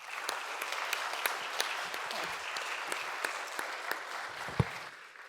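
Congregation at a Sunday youth church service applauding, a steady wash of many hands clapping at moderate distance for about five seconds, continuing throughout with one sharper clap near the end.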